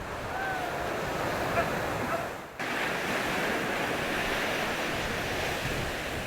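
Winter sea waves roll in at Gangneung beach, a broad steady wash of surf mixed with wind buffeting the microphone, with a brief dip midway before the roar resumes.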